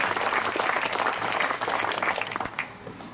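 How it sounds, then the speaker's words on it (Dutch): Audience applause at the opening of the summer season at the Brabants Museum Oud Oosterhout: dense, steady clapping from a crowd, close and loud, thinning slightly toward the end. "Dus ik wil nogmaals vragen om een applaus voor iedereen en ook het bestuur."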